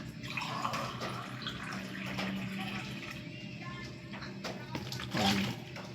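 Water pours into a kilo of flour while making munay dough, a soft steady splashing and trickle running continuously at close range, with a voice speaking over it.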